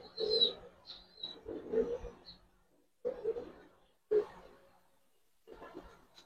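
Giribaz and coloured pigeons cooing at a pigeon farm, several deep rolling coos in separate bursts with some higher chirps, close by and fairly clear, no talk over them.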